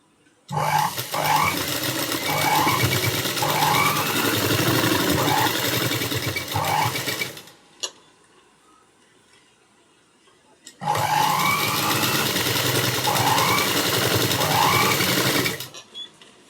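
A sewing machine stitches the front cup of a blouse in two long loud runs, each several seconds of steady close mechanical whirring, separated by a quiet pause.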